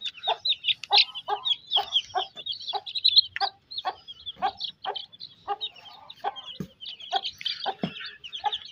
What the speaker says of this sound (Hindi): और मुर्गी जो है ना, जो इनकी माँ थी, उसको निकालते हैं बाहर